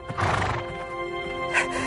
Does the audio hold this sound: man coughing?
no